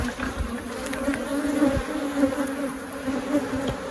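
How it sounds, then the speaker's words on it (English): A dense mass of honeybees drones at an open beehive during a split, a steady close hum with individual insects zipping past, and no talking. "You guys see that mess of bees over there?"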